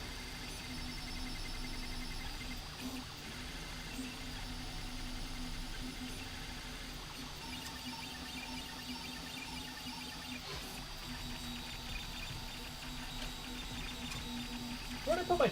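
A Voron V0.1 3D printer runs a test cube print, giving a steady, fairly quiet mechanical whir and hum that holds throughout, with a brief clatter near the end.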